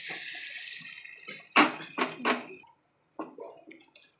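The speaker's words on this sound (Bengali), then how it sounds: "এবার একটু জল দিয়ে দেবো।" Water poured into a pan of desi chicken curry, a few short splashing bursts that hit sizzling oil and then settle into a softer bubbling hiss.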